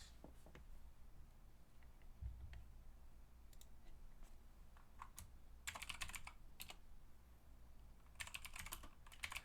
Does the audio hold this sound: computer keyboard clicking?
yes